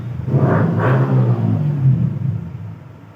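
A passing vehicle rumbles past in the market outside a studio, its engine swelling and then fading over a few seconds, loud and fairly close.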